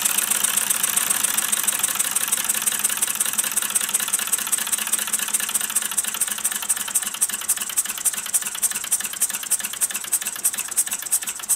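A Mamod SP7 gas-fired stationary steam engine runs steadily, a fast rhythmic chuffing and clatter with a bright hiss, loud and close throughout, with no talk.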